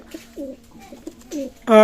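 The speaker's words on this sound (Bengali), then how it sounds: "আমি কিছু কবুতর দেখাবো" Pigeons of KTM imported stock coo in a low, rounded rhythm, several distinct coos in under two seconds, close and clear, ending with a louder burst of overlapping bird sound.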